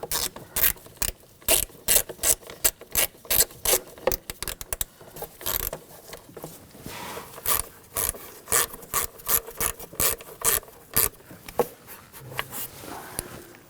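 A ratchet tightens the valve cover bolts on a 2000–2006 BMW X5 with the 3.0L inline-six, giving rapid bursts of close clicking that start and stop repeatedly and carry on throughout.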